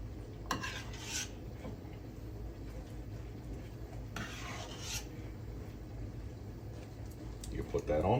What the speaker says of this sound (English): Take your spatula. You want to spread this out.